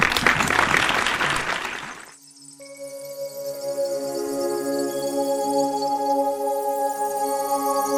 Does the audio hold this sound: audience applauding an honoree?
yes